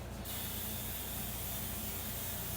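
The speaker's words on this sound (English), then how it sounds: "Another trick you can use is use a spray pan coating" A can of cooking spray hisses steadily for a couple of seconds after a brief start, close and fairly loud, with no voices.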